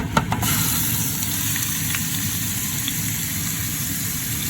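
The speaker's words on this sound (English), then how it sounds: "I'm warming up my frying pan here for the meat." Meat frying in extra virgin olive oil in a warmed frying pan over medium heat: a steady, continuous sizzle with soft crackles, moderately loud and close, with no talking.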